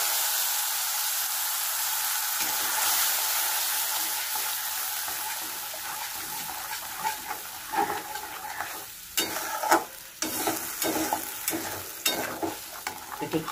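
A paste of ground mustard, coconut and chili mixed with turmeric sautés in a hot pan for a Bengali steamed tilapia dish, giving a steady loud sizzle with scraping stirring clatters growing busier toward the end.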